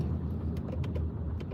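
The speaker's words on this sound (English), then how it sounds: "Look at the cars that are on the road." Traffic on a road in a Russian town: a steady low rumble of cars passing nearby, with faint chirping birds above the engine and tyre noise.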